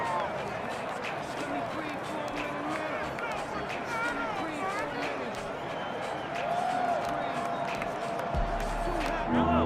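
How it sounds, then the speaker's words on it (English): A Madden 21 stadium crowd on PS5 roars steadily as home fans urge on the Ravens on third down, a continuous swelling wash of cheering under play-by-play commentary. "This crowd urging on their Ravens."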